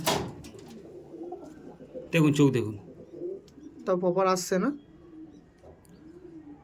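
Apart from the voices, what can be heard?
Madrasi pigeons cooing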